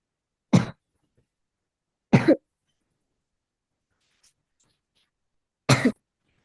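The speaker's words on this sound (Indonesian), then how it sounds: "Sedang batuk ya?" Three sharp, separate coughs break an otherwise silent stretch, each brief and close, spaced a second or more apart.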